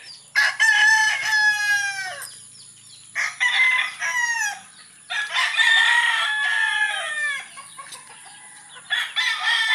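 At a backyard gamefowl farm, roosters crow loudly and repeatedly at close range, their long calls overlapping with clucking chickens between bursts.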